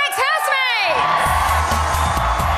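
Big Brother UK studio audience at the live final cheering and whooping loudly for returning ex-housemates, with shrill rising yells at the start settling into a dense roar of crowd noise.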